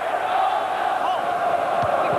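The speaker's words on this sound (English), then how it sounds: "The vast Prater Stadium echoed to the cheers of Gooners from all corners of Britain." Arsenal fans cheer and chant in the vast Prater Stadium in Vienna, a loud, sustained crowd roar with massed voices carrying across the stands.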